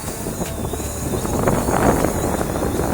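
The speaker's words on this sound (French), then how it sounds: "J'ai beaucoup de vent là." Wind buffets the microphone of a Fimi X8 drone flying outdoors in 2019, a steady rushing roar with gusty swells and a faint high motor whine underneath.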